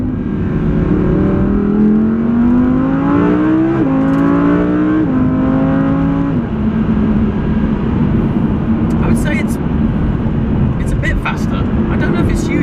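An Audi R8 V10 Plus sports car engine revs and climbs through gears while driving on country roads, a loud steady drone rising in pitch then settling, with some rattling noises near the end.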